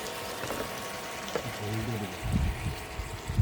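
Water is poured into a pot of chicken curry cooked with bottle gourd in a village kitchen, giving a soft splashing and sizzling rush that builds in the second half, with faint talk earlier.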